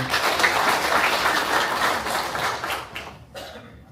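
Applause from an audience at a city citizens' dialogue meeting with council members present, dense steady clapping for about three seconds that fades out near the end.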